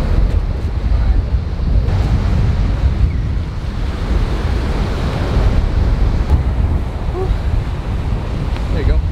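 Surf washes onto a hurricane-battered beach in a steady, loud churning roar, buffeted by heavy wind noise on the microphone, with no clear breaks between waves.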